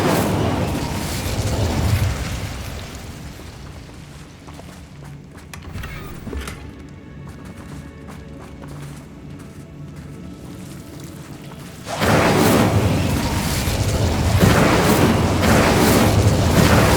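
Spell-cast explosions from the Incendio fire spell in Hogwarts Legacy, dense booming bursts over game music, dipping quieter in the middle before a loud surge near the end.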